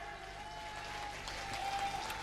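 An audience at a Hindi poetry recital (kavi sammelan) in Etah claps in steady, even applause, a soft wash of many hands heard at moderate distance without a break.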